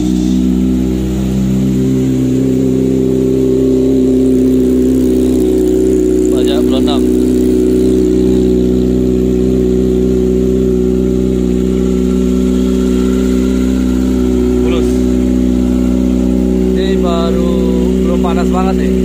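A Kawasaki ZX25R sport motorcycle engine idles loudly and steadily, with occasional throttle blips and voices talking over the rumble.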